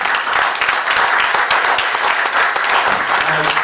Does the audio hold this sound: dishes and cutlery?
no